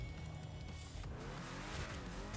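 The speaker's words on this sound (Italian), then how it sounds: "Oddio che motore!" A car engine in the video game GTA 5 rumbles and revs, faint and low, with a rising tone over quiet background noise.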